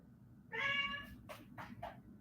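A pet cat named Kitty meows once indoors, a clear, drawn-out harmonic cry, followed by a few shorter, softer breathy sounds over a low room hum.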